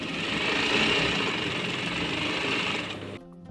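A sewing machine runs steadily while stitching a thin seam on a Rajputi lehenga, a dense continuous whir that holds for about three seconds and then cuts off abruptly.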